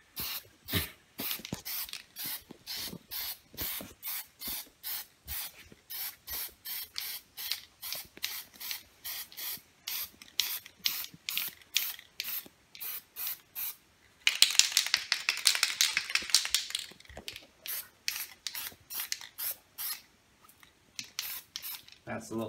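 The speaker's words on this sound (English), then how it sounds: "so now we're gonna spray paint the hull here." Spray paint hissing onto the hull of a model TOS Enterprise starship in short repeated bursts, with a longer continuous spray near the middle, close and fairly loud, with no talking.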